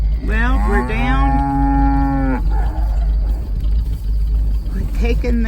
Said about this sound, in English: We're taking the cows.